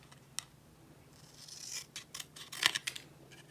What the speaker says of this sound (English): then I flip it and I snip from the other corner